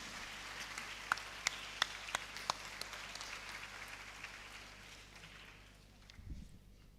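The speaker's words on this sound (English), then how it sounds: "Let us give Tay Shen Ni a huge round of applause" Faint, distant applause from a convocation ceremony crowd with a few sharper claps standing out, fading away toward the end.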